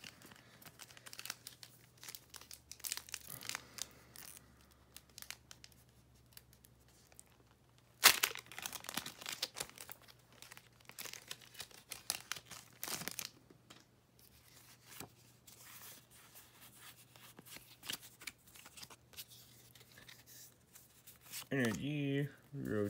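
A Pokémon card booster pack wrapper being opened, with close, intermittent crinkling and tearing of foil plastic in bursts, and a few sharper rips along the way.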